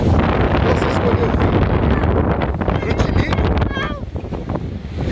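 Strong gusty wind buffets the microphone continuously at a beach, with people talking underneath the roar.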